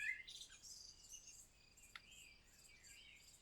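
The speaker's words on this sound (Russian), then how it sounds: "Перебивает меня, слышите? Птицы." Birds chirp and tweet in quick high-pitched calls, fairly faint and distant, with a brief sharp note partway through and no talking, outside a house in the Carpathians.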